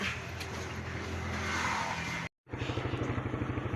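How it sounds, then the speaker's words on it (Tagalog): A motorcycle engine runs nearby as the bike is brought out near the sea, a rough rumbling drone that briefly cuts out and then resumes with a pulsing, rhythmic idle. "si Pix nilabas na po yung motor"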